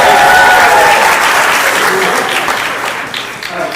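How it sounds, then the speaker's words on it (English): Guests at a wedding reception applaud the speakers, loud sustained clapping close by that fades gradually over a few seconds. "let's go round of applause for our speakers"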